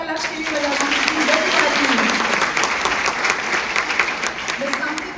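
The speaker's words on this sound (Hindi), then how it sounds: "एक बार जोरदार तालियां लक्ष्य के लिए बजा दीजिए।" Loud, enthusiastic audience applause for Lakshya at a Rockstar fan meet at the NCPA in Mumbai, a dense sustained roar of clapping with cheering voices mixed in, holding steady before easing slightly.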